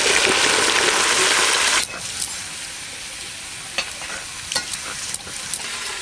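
Green jackfruit and potato pieces drop into hot oil in a village kitchen, a loud burst of sizzling that settles into a steadier, quieter fry with occasional light clinks and stirring sounds.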